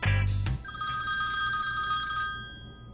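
An old-style telephone bell rings in a cartoon scene, a bright, continuous metallic trill that starts right after a short burst of other noise and fades at the end.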